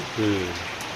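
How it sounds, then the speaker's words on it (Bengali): Heavy rain pours in a dense, even hiss, with a short voiced tone rising briefly over it near the start. "বৃষ্টি একবারে বিপদ, এত বৃষ্টি বৃষ্টি"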